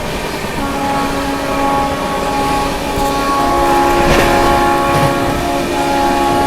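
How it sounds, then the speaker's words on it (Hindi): A Shatabdi Express running alongside and overtaking the Sealdah Rajdhani at sunrise, heard from inside as a loud, steady rail rumble with sustained humming tones and a brief clattering swell partway through, and no voices. "सियालदह राजधानी को एक बार फिर से ओवरटेक मार देगी वो अपनी शताब्दी एक्सप्रेस"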